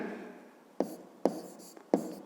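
Chalk or marker strokes writing letters on a classroom board, three or four short scratchy taps spaced about half a second apart, close and fairly quiet.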